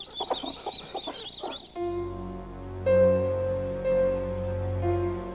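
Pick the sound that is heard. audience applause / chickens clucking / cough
chickens clucking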